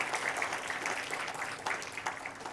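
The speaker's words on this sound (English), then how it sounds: "Can we have a big round of applause for them for helping us out?" A conference audience gives a sustained round of applause for the sponsors, with dense, even clapping that carries on for a few seconds at moderate loudness and no talking over it.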